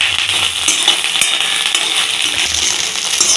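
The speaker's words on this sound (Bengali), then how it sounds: "ডিমটাকে আমি ভেজে নিচ্ছি ভালো করে" Scrambled egg frying in a pan and being mixed with vegetables for Bengali-style chowmein: a loud, steady sizzle with a spatula clinking and scraping against the metal several times, no talking.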